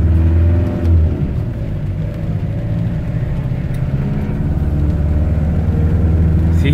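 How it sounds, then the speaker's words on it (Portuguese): A car drives along a road in rain during a windshield crystallizer product test, its engine a steady low rumble and whir heard from inside the cabin, fairly loud and constant without talk. "Vamos andar com o carro e vamos ver."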